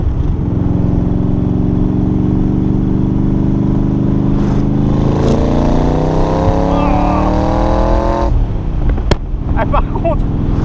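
An AC Cobra Shelby with a 302 hp engine pulls hard in second gear, its loud, continuous engine roar rising steadily in pitch for about eight seconds before a sudden shift and drop in tone.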